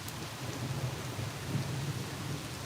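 A low, steady rumble of distant thunder rolls beneath continuous rain-like hiss, with no voices.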